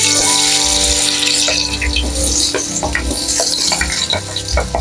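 Potatoes frying in a pan, a loud continuous sizzle with occasional stirring scrapes, close up and with no talking.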